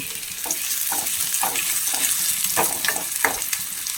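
Chopped small shallots sizzle in a hot pan for a vegetable curry, a steady close crackle with brief spits and stirring scrapes, and nobody talks.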